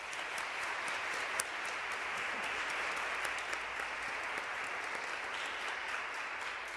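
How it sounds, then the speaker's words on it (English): Steady, even applause from a crowd at a Junior League general membership meeting in New York, moderately distant and continuous throughout without talk. "please join me one more time for a round of applause to congratulate the incoming slate of Board of Directors"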